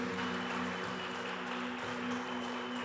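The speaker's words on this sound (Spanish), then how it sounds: "darle un fuerte aplauso" Church congregation applause, a dense, loud, steady wash of clapping that fills the space evenly, with a sustained tone humming beneath it.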